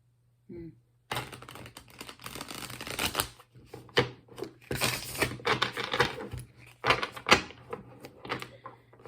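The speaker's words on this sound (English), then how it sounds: "I went to split the deck to shuffle" Close, crisp shuffling of a tarot deck in several bursts, with riffles and taps separated by short pauses over a faint background hum.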